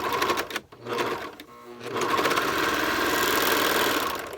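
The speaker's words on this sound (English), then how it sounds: "So I'm serging." A serger overlock machine stitches the hem of a homemade surgical mask, a loud, rapid mechanical whir broken by a short pause before running steadily to the end.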